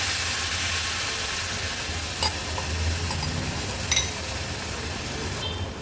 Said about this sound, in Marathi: मटकी पण मसाल्यामध्ये छान परतून घेऊया.